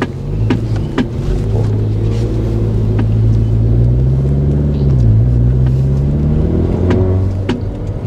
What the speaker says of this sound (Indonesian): Ini mobil masih kondisi diam aja begini udah hampir 80 dB nih.